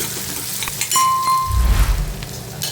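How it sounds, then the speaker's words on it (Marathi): Chopped tomatoes go into a pan of fried onions, sizzling close and loud after a few clinks of a utensil against the pan. "आता टोमॅटो घालूया कांद्यासोबत टोमॅटोही व्यवस्थित परतून घ्यायचा आहे"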